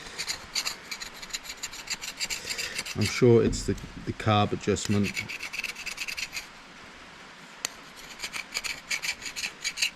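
Scratchy rubbing and scraping comes in quick repeated strokes while parts of a Stihl MS291 chainsaw are cleaned up close, with someone briefly speaking partway through.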